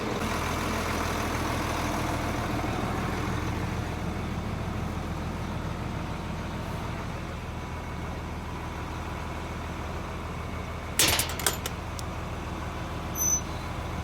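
A farm tractor with full saddle tanks and a seed load of cereal rye and radishes idles steadily in a low, continuous drone for the whole stretch, with a brief clatter of sharper noise near the end.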